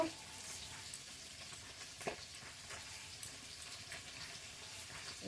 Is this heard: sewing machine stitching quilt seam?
no